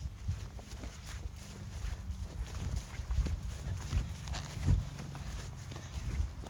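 Horses walking outdoors, hooves clip-clopping irregularly at a moderate distance, faint and mixed with rustling movement.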